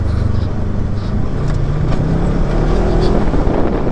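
A 2021 Polaris RZR 1000 XP off-road side-by-side drives hard, its engine a loud, steady roar with rising revs and heavy wind rush across the microphone throughout.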